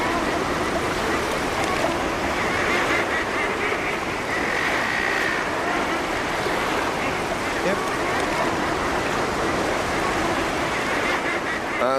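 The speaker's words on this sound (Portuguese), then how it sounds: "As colônias de aves marinhas do Ártico são um dos grandes fenômenos naturais." An Arctic seabird colony fills the air with a dense, unbroken din of overlapping honking and squawking calls, loud and close, with a steady hiss of wind or surf underneath.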